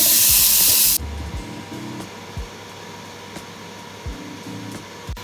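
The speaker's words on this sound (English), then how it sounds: "stick that straight in the air fryer" An air fryer cooking potatoes cut into small squares gives a steady, close fan whir with low rumble and occasional soft thumps, after a brief loud rushing hiss at the start.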